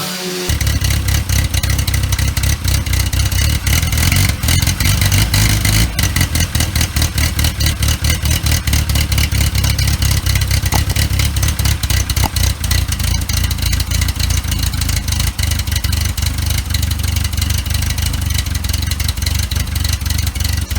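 A Hillman Imp car engine, its carburettors being sorted during a restoration, fires up and keeps running, a loud steady idle with clatter that fills the whole stretch, with a little talk over it.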